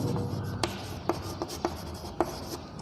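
Chalk or marker strokes on a classroom board, a run of soft scratchy rubbing with about half a dozen sharper taps spaced irregularly, faint and close, no voices.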